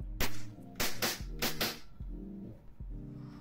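A WE Glock 19 Gen 5 airsoft pistol fires about six sharp, snappy shots in irregular succession, close and loud, each crack followed by a short metallic slide clack.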